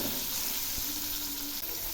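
Tomato pieces and potatoes fry together in a pan with turmeric, giving a steady, close, even sizzle that carries on throughout with no voices.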